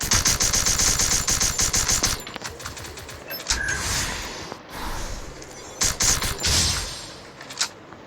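Rapid automatic gunfire comes from VSS and Thompson guns in a ranked Clash Squad shooter match. Dense bursts are followed by pauses and scattered shots, mixed with game effects.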